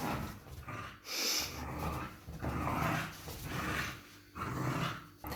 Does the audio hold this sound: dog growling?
yes